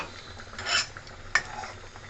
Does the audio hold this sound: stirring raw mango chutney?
yes